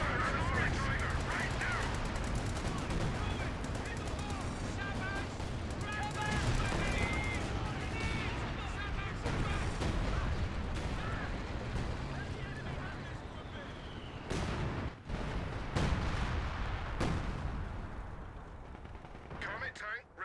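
Artillery and gunfire from a Company of Heroes 2 battle, dense bursts of shots and booms over continuous combat noise, with game unit voices speaking throughout.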